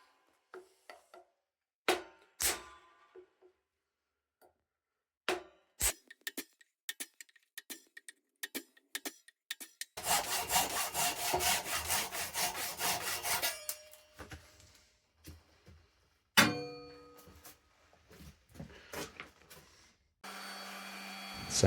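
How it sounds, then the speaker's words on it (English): A handmade wooden axe handle and its wedge are sanded by hand: bursts of scratchy rubbing strokes start and stop unevenly, with a longer continuous stretch of sanding in the middle, close and fairly loud. "Sand down the top of the handle and the wedge"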